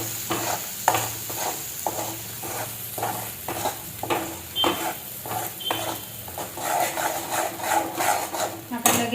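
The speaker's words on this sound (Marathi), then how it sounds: "आता हे मसाला पण मी आता चांगला तळून घेते तेलामध्ये." Masala paste frying in hot oil for a village-style mutton dish, a loud close sizzle broken by repeated metal spoon scrapes and clinks against the pan in an irregular rhythm.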